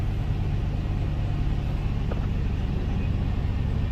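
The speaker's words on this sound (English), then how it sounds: "fire the vehicle up, let it warm up some" A Ford Econoline E350 van with a vacuum leak idling after start-up, a steady low engine rumble that holds evenly throughout with no speech.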